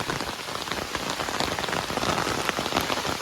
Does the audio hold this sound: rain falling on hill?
yes